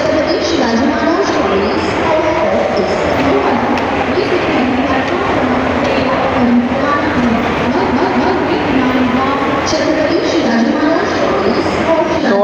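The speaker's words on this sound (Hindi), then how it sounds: "तो देखिए करीब 9:15 के ट्रेन को प्लेटफॉर्म पे लगाया गया है।" The Hussain Sagar Express stands at a busy Mumbai CSMT platform, with a continuous loud rumble of the train and station bustle under faint chatter, steady throughout.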